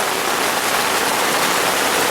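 Rain patters steadily onto the fly of a Coleman Sundome 4-person 9x7 tent, an even, close wash of drops without any talking.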